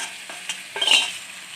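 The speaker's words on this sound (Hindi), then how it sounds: "मछली जो हमने सारे मसाले लगा के रखी हुई थी तकरीबन 10 से 15 मिनट के लिए, वो ऐड करेंगे" Masala-marinated fish hits a hot pan, giving a soft, brief sizzle with a short scrape of stirring, close and moderately loud, no voices.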